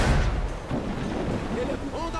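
Ship cannons fire in the pirate game Assassin's Creed IV Black Flag, deep booming blasts and rumble over wind and sea noise as naval combat goes on.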